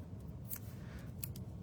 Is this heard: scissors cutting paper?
yes